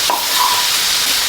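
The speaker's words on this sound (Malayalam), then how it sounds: "ഇനി ചെറുതായി മുറിച്ച് വെച്ച കയ്പ്പയ്ക്കയും കൂടി ഇതിലിട്ടിട്ട് നന്നായി വഴറ്റി" Chopped bitter gourd sautés in a pan, loud and close, with a bright, hissing sizzle and the scrape of a stirring spoon in one short burst.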